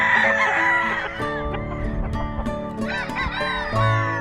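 Gray cross gamefowl roosters on a farm in the morning, with several birds crowing and clucking over one another in a busy, overlapping chorus, close and fairly loud.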